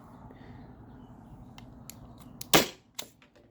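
A Byrna SD launcher fires an aluminum round over a chronograph, one sharp loud crack followed by a smaller pop, nearby against a quiet room hum.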